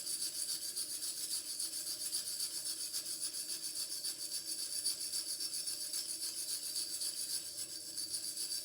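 A metal hookah kaloud is rubbed clean in quick repeated strokes, a faint, rhythmic high-pitched scratching that continues steadily throughout.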